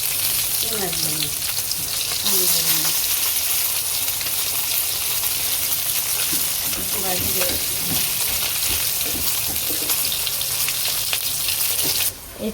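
Fish frying in a hot pan for a village-style home-cooked meal, a steady dense sizzle running throughout with occasional stirring and a few faint background voices, ending abruptly near the close.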